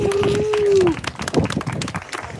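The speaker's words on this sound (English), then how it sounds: "Y'all give them a round of applause" Audience applause at a candlelight vigil for the missing, honoring families, a brief burst of clapping following a sustained tone, then scattered claps fading under low murmur.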